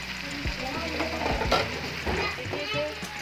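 Chopped red and green chillies are stirred into a frying chicken stew: a soft, low sizzle runs under repeated spoon scrapes and clinks against the pot, fairly quiet overall.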